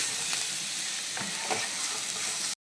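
Vegetables sizzle steadily in a hot pan, with a few soft stirring scrapes and no talking, ending abruptly.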